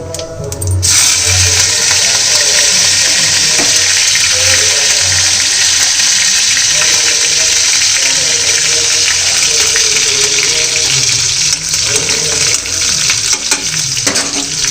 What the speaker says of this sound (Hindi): कढ़िया गर्म हो गई मैं डालती हूँ जीरा और पत्ती